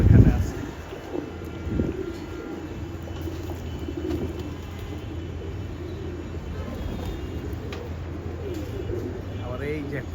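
Domestic pigeons let out after several days coo softly on a hot afternoon, with low, throaty calls over a steady outdoor hum and some nearby movement.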